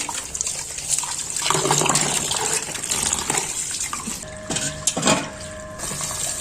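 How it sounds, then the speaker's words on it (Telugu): Raw tripe is washed by hand under running tap water, a steady close gush and splash with sloshing and a few knocks of the container. "ఒకసారి కడిగేసిన మళ్ళీ ఇంకోసారి కడుగుతున్నాం"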